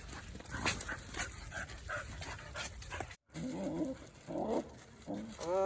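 Several dogs pant and snuffle close by as they are fed, with quick rhythmic breaths and a brief whine near the end, moderately loud.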